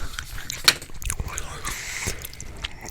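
Food is chewed and bitten right into a microphone, with wet, crunchy, close-up mouth sounds and one sharper bite, under faint background noise.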